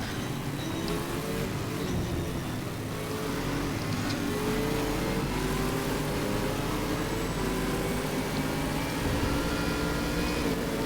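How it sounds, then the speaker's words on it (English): Bentley GT3 race car engine at the Red Bull Ring in a stock car racing game, roaring steadily at high revs throughout with loud continuous drone and shifting pitch, mixed with other cars' engines and no talk. "The Bentley sounds amazing."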